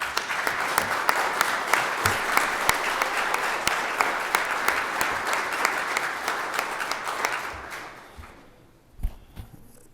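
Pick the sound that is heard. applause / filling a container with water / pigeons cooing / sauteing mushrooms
applause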